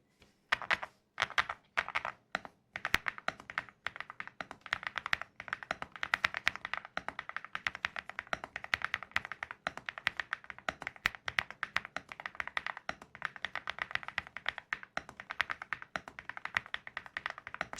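Soft, rapid keystrokes clatter on a mechanical keyboard, starting with a few slow taps then settling into continuous, muted typing close by.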